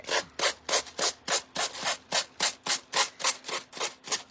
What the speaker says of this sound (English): I'm just using my sander here.